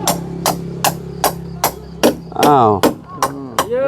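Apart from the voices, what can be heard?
hammering, pounding while raising house posts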